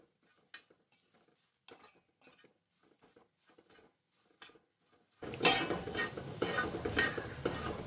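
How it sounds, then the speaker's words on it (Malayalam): Food with black pepper, small onions and curry leaves being stirred in a heavy uruli over a high flame: sparse faint scrapes at first, then a loud continuous sizzle with rhythmic stirring clatter close by. "അപ്പം കൈവിടാതെ ഇളക്കണം"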